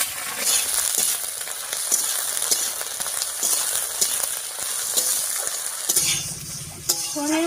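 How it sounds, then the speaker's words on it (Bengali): Brinjal sizzles steadily in hot oil with a black cumin, dried red chilli and green chilli tempering while being stirred, with a brief faint voice near the end. "ফোড়নের উপরে বেগুনটা দিয়ে একটু নাড়িয়ে নিয়েছি"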